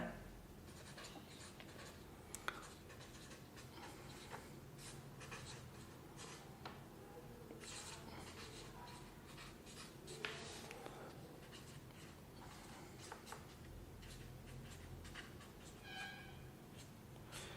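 A pen scratches across paper in a math lesson, working through a class 10 problem on intersecting lines. Short, quiet strokes come in an uneven, continuous rhythm, close by and mostly on their own.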